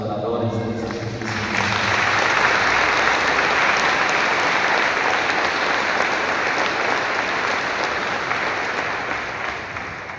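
Applause from a church congregation at a farewell 6 a.m. Mass for the adorers of the Blessed Sacrament. Sustained, loud clapping swells in after a brief sustained tone at the start and continues strongly to the end.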